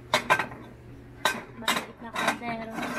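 Metal cooking pots clank and clatter as they are handled at a kitchenware stall, with several irregular knocks and rattles at close range and voices murmuring faintly underneath.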